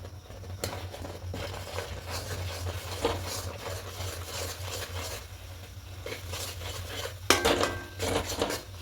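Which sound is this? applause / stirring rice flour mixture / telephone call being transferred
stirring rice flour mixture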